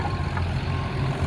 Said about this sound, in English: Just a little video of our skidders cleaning them